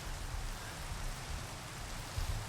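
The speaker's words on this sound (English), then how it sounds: "now it starts raining" Rain in Minecraft with the JurassiCraft mod, a steady, even hiss of falling drops with a faint low rumble underneath, continuous and unbroken.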